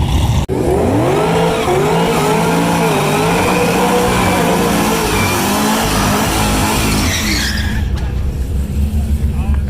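Drag racing cars launch hard against a flat black Camaro at a race week event, engines roaring loud and close with rising revs and tire squeal, holding steady before easing off near the end.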